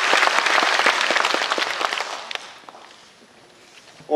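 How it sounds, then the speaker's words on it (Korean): Applause from an audience at a 2016 Saemaul Day commemoration ceremony in Jeonnam, a dense burst of clapping that is loud at first, then thins and fades out over a few seconds. "그러면 큰 박수 한번더 부탁드립니다."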